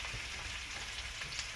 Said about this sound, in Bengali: নিভু জালে হালকা হালকা তাপ দিয়ে ভাজছি